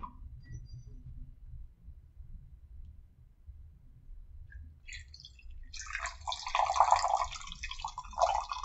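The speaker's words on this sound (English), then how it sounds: "The next thing I'll do is pour it into this, which is a coffee cup." Espresso coffee poured into a mug, a liquid trickle and splash starting after a quiet stretch of low room hum and building over the last few seconds, close and fairly soft.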